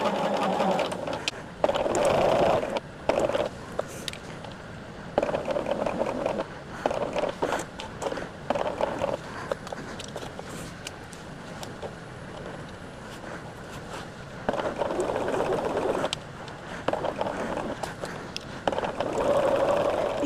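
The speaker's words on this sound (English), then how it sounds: "So we are just going to sew this at that scant 1/4 inch once again." A sewing machine runs a scant quarter-inch seam on a quilt block in repeated bursts of steady mechanical whirring, stopping and restarting over the stretch, with a voice talking faintly at times.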